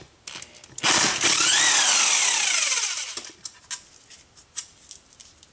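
A power tool removing 10 mm bolts from the front transfer case cover of a 1999 Jeep Grand Cherokee Laredo whirs up loudly in one sustained two-second burst, winding down, followed by scattered metallic clinks and taps.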